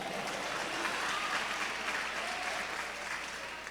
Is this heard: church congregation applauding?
yes